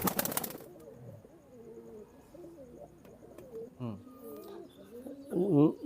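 High-flying pigeons offered for sale coo softly and repeatedly in low rolling notes, close by, with a louder cluster of coos near the end and a brief rustle at the start.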